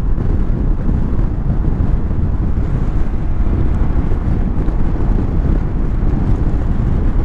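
A Royal Enfield Himalayan motorcycle cruises on a main road in fifth gear at about 80 km/h and 4000 rpm. Its steady engine drone is buried under loud, constant wind rush that roars evenly throughout.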